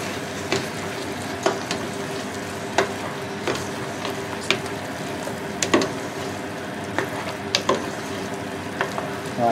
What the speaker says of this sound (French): Notre chorizo qu'on a coupé en petits cubes. Là, on va bien mélanger ensemble.